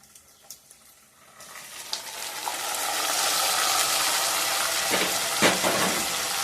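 Mutton pieces frying in oil for a village-style gongura dry mutton curry: a steady, close sizzle swells up after a quiet start and holds loud, with a few stirring clatters.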